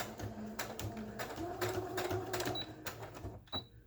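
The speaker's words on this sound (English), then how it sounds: "I have a dark thread in my sewing machine, so I'm just gonna go around the edge" A sewing machine with dark thread stitches around the edge of a handmade journal's book spine, a steady close mechanical whir with rapid needle chatter running continuously.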